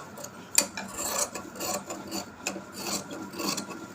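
Close, rhythmic rasping of scissors cutting a curve into nightie fabric, a string of short crisp snips and rubbing strokes with one sharp click near the start.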